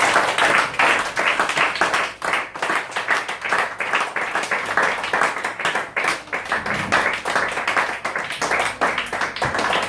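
A church congregation applauding together, dense and loud sustained clapping that fills the room, with voices mixed in, steady throughout.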